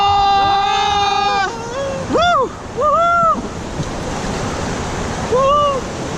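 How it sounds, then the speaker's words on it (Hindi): River rapids during a raft ride on the Ganges at Rishikesh, Uttarakhand, a loud rushing roar of surf and wind under shouted voices and whoops from rafters. "चलो भाई, रैपिड आ रहा, रैपिड बड़ा वाला।"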